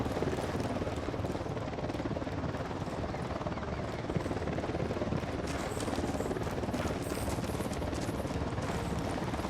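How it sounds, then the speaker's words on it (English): A helicopter approaching in the Ghost Recon Wildlands video game, its dense rotor thump and turbine roar loud and steady throughout, growing harsher near the end, with faint speech mixed underneath. "Chopper's approaching."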